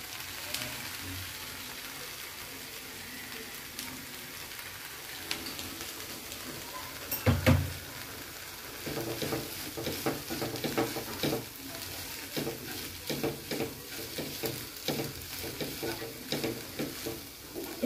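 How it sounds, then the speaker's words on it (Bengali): Dried shrimp frying in a pan with salt for a bottle-gourd peel mash, a steady soft sizzle with scraping and clattering stirring, including a louder knock midway, heard close with no talk. "চিংড়ি মাছটা ভাজা হয়ে গেছে।"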